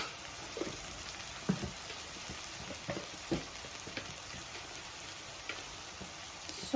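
Chili powder and salt frying in ginger garlic paste for an arbi curry, a soft steady sizzle with scattered light crackles and a few stirring scrapes, fairly quiet and without voices.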